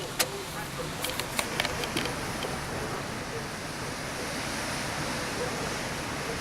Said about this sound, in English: every time I get the video going to record a drastic wind, it slows down